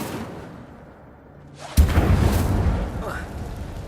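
A fire spell cast in the Hogwarts Legacy video game erupts suddenly as a loud, bursting whoosh after a quiet lull, then roars on briefly as a crackling blaze.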